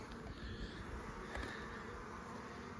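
Honeybees in an opened beehive on Vancouver Island hum steadily around their frames, a close, dense, unbroken buzz that holds level throughout.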